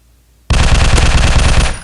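A loud, close burst of rapid automatic gunfire from a firearm in an FPS survival video game, lasting just over a second before stopping abruptly.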